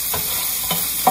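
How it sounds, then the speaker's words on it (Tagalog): Garlic, onion, tomato and ginger are sautéing in a skillet with a steady sizzle. Two or three soft scrapes of stirring break through the frying noise, and no one speaks. "Ang sikreto ng cooking ay igisa ng husto ang mga bawang sibuyas, kamatis, luya."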